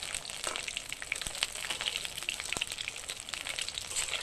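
Banana flower ring pieces frying in hot oil, a steady crackling sizzle with scattered sharp pops, close and moderately quiet with no talking.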